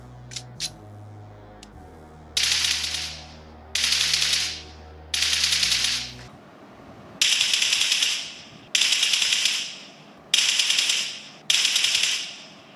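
Bursts of automatic gunfire spray from a video game played through Realme Buds T500 Pro or CMF Buds 2 earbuds, seven rapid-fire bursts of about a second each in an even rhythm, preceded by a few single clicks.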